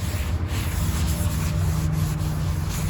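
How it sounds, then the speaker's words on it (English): A scuff pad rubs back and forth over a 1987 Buick Regal dashboard, giving a continuous close, fairly loud abrasive scrubbing with no talking. "So right now, I'm using a scuff pad around the areas that I already"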